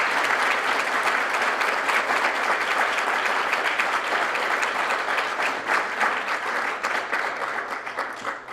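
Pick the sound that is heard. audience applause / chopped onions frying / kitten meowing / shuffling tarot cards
audience applause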